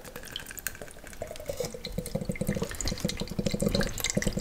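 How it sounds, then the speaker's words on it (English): Water is poured out of a container while coconut milk is being made from scratch, a steady splashing, trickling stream that is close and grows slightly louder toward the end, with no talking. "Pour out the water."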